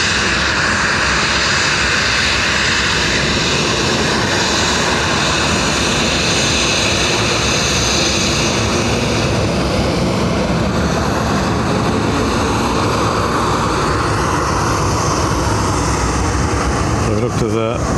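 A Dubai Air Wing Boeing 747 freighter lands at Dublin Airport, a broad, loud, steady jet-engine roar filling the whole stretch with rumbling wash, and air traffic radio talk running beneath it.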